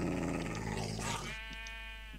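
An angry dog growls in Minecraft, a loud close harmonic snarling growl that holds for about two seconds over a low steady hum, with no talk.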